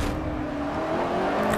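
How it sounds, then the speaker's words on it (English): A race car in Forza Motorsport 4 drones at steady engine pitch with a rough, jolting rumble as it bounces over curbs, loud and close, with no talking. "Car getting very upset over the curbs."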